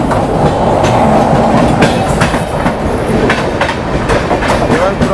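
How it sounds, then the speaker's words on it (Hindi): A train rolls loudly and close through Mathura Junction station, its wheels beating a steady clickety-clack over the rails beneath a constant heavy rumble. "कोई ट्रेन यहाँ पे अभी मथुरा को स्किप करने वाली है"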